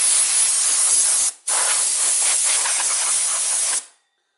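Compressed air hisses loudly in two close bursts, briefly interrupted, as dust is blown out through the back of a Dell Dimension C521 computer power supply.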